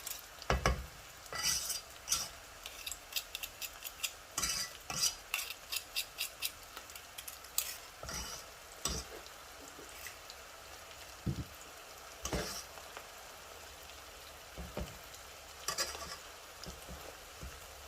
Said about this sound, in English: There we go, that's the garlic in there too. Give it a stir.